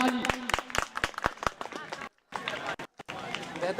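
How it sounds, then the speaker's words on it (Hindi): Scattered handclaps from a small crowd at a local under-13 women's cricket final, sharp and irregular, mixed with a talking voice and brief gaps of near silence. "एक बार उनके लिए ताली।"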